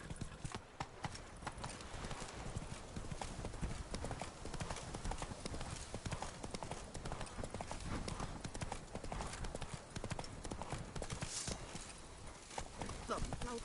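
Horse hooves clip-clopping steadily and close, a continuous rhythmic patter running the whole time, with people talking over it.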